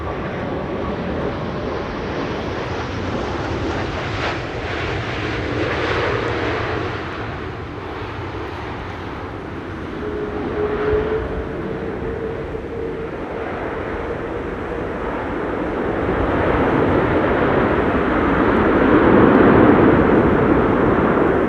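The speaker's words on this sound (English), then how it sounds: "Delta Airlines Flight 164 arriving from Minneapolis, Minnesota, 7 hours and 34 minutes on the way." Delta Airlines passenger jet arriving at Amsterdam Schiphol from Minneapolis in stormy conditions, a loud steady engine roar that builds and swells toward the end, continuous and close.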